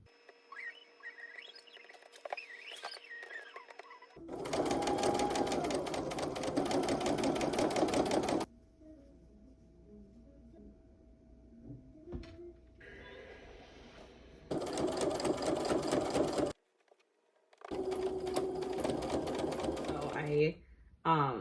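A sewing machine stitches a toile for a pair of pants in several close, fast-whirring bursts separated by quiet pauses, with faint handling noises between runs.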